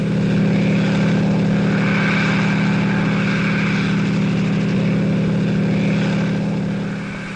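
Military helicopters of 1960s West German army aviation come in to land, producing a loud, continuous rotor and engine drone that holds steady, then eases slightly at the end.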